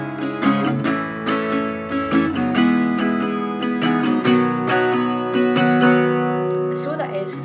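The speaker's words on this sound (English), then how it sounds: "The strumming pattern would sound like this." Acoustic guitar strumming the rhythm pattern for a song, steady down-and-up strokes ringing out full chords, close and clear with no voice over it.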